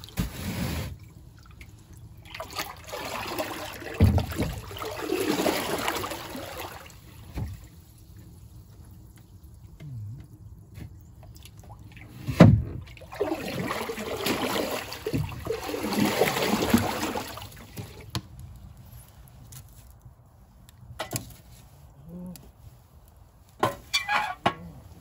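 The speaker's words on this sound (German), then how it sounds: "Ab und zu muss man jetzt beigehen und das Wasser umrühren." Water stirred by hand in a wood-fired hot tub, two long stretches of sloshing and swirling with drips and splashes between quieter pauses.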